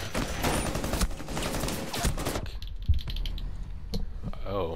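Rapid gunfire from Rainbow Six Siege Terrorist Hunt rattles densely for about two seconds, then gives way to sparser clicks and a few isolated shots under quieter game sound.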